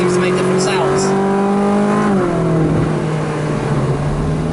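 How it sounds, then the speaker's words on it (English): A Ferrari engine rumbles close by through a downshift, its note dropping sharply partway through, followed by a low lift-off burble, with a voice talking over it at times. "You get the sort of almost squirts as you shift down a gear. Then you get lift-off kind of rumbles and backfiery burble."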